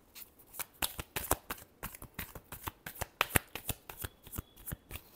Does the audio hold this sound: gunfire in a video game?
no